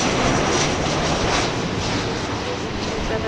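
A jet airliner roars on runway 24 left at LAX airport, a loud broad steady engine rumble, with radio talk heard over it.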